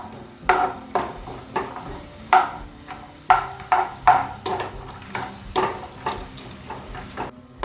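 Cashew and almond slices dry-roasting in a pan, tossed with a utensil in a regular rhythm of rattling scrapes, about a dozen strokes over a faint background hiss, near and without talk.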